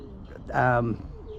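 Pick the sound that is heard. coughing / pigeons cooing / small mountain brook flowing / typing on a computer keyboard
pigeons cooing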